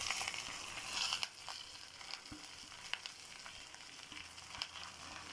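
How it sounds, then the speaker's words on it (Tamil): Chili, coriander seeds, coconut, curry leaves, ginger and garlic roast in a pan for a Tamil pirandai thuvaiyal, giving a steady soft sizzle with a few faint stirring scrapes and clicks, close and without talk. "அவ்வளோ பொருள் வறுக்கப்படும்."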